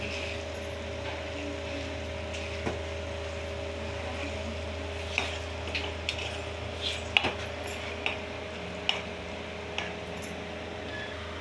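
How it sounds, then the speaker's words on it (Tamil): A spoon stirs beaten eggs in a bowl, giving light scattered clinks and scraping taps that grow more frequent toward the end over a steady low electrical hum, close and quiet with no talking. "நம்ம ஊற்றி வச்சுருந்த முட்டையெல்லாம் நல்லா கிண்டி விட்டுக்கலாம்"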